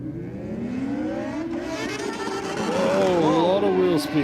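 A drag car launches at Sydney Dragway in the Aeroflow lane, its engine roaring loud and steady while the tyres spin, the pitch climbing and sweeping near the end, with commentary talking over it.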